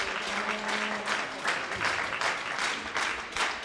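Crowd applause for an injured player being carried off at a women's football match in Mecklenburg, a modest crowd clapping in rolling bursts, fairly near and steady, with a faint voice murmuring beneath.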